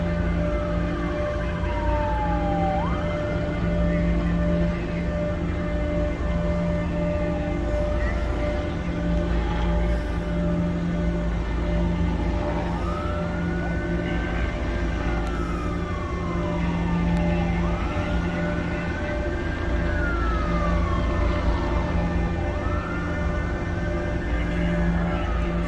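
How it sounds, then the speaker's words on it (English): Siren near a high school wails in a steady repeating rise-and-fall cycle, each sweep climbing then sliding down, over a constant low engine-like drone, loud and continuous with no talk. "that's some kind of siren at the school?"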